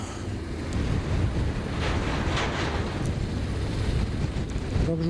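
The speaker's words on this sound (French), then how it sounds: "j'espère que le vent ne viendra pas trop contraindre parce que ça souffle un peu, ça souffle pas mal" Strong wind roars and buffets the microphone beside a canal near Aigues-Mortes in the Camargue, a loud, steady rushing with gusty swells throughout and a brief voice at the very end.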